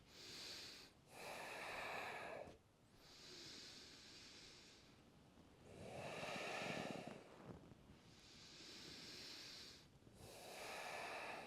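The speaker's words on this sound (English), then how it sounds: "Only breathing in and out through your nose." Slow, steady breathing in and out through the nose during a yoga practice, with long airy inhales and exhales alternating every few seconds, close to the microphone and quiet, with no talking.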